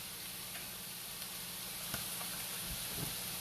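Chopped regular onion sizzles steadily in a hot pan, a soft continuous frying hiss with a few faint ticks and stirring clicks, no talking.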